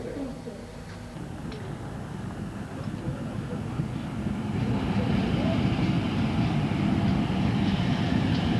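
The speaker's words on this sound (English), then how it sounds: "The train approaching platform 3 is 242 to Kidderminster Town." Train number 242 to Kidderminster Town pulling into platform 3 at Bewdley station in 1987: a low rolling rumble that swells louder and closer over the last few seconds, with a voice over it.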